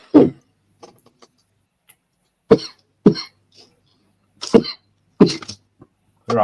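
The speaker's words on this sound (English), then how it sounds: "I'm coughing more with this no smoking thing than I did when I smoked." A man at a scale-modelling bench coughs repeatedly, sharp harsh bursts in uneven clusters separated by short silences, close and loud with throat-clearing rasps among them.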